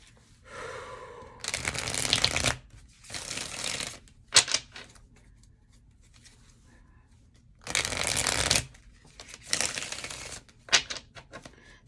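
A deck of tarot cards shuffled close up in several separate bursts of riffling and flicking, with quiet pauses between them and no talking.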